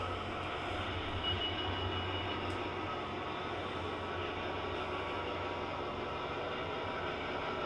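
A model railway locomotive runs steadily on the track under manual braking, a continuous low rumble and rolling hum with faint wheel noise, close and even throughout with no talking.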